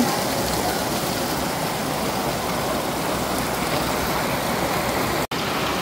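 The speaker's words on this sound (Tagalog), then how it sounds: "lumalakas na naman ulit yung ulan, tas baha pa din." Heavy typhoon rain pours down in a dense, constant roar, loud and close, with a brief dropout near the end.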